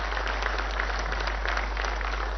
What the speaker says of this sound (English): A huge round of applause and a hearty welcome to her.